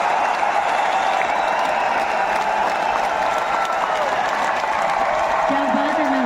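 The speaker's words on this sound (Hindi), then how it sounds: "जोरदार तालियां बनते" Audience applause at an anniversary event, dense steady clapping from a large crowd throughout, with a voice speaking over it near the end.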